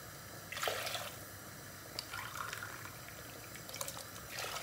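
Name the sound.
cold water poured into a pot for soup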